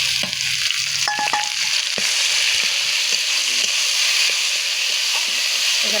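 Pumpkin leaves frying in a pan, stirred with a steady loud sizzle and scattered scraping clinks from the spoon; no one speaks.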